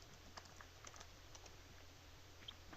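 Fingers type on a computer keyboard, with soft, quick key clicks in an uneven patter over a low hum and a sharper click at the end, faint and alone without talk.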